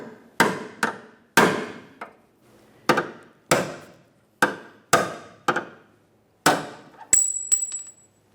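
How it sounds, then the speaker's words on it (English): A hammer strikes a punch about a dozen times to drive out a rear control arm mounting bolt on a 1994-1997 Honda Accord, with sharp, loud metallic blows at an uneven pace, ending in a ringing metal ping. "Just going to use a hammer and punch to drive it out."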